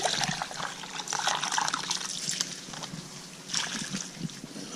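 Running water splashes and trickles while dirt is rinsed off metal-detected coins, with uneven bursts of sloshing close to the listener and quieter gaps between them. No one speaks.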